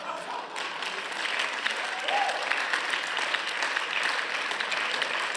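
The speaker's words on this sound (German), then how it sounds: "Applaus" Applause in the German parliament, a steady wash of clapping from the chamber, moderately loud and continuous for several seconds.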